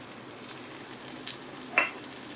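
Spices and yogurt tipped into onions frying for Pakistani aloo bhujia potato curry give a soft, steady sizzle with a brief sharper crackle partway through.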